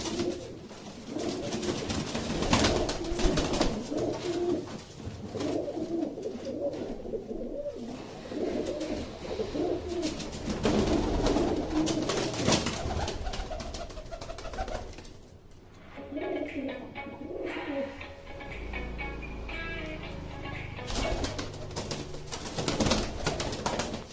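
Chatri umbrella pigeons coo in soft, repeated murmurs, partly buried under steady rushing background noise, with the calls becoming clearer toward the end.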